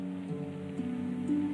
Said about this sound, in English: The storm got worse. Really? As if we need more rain right now.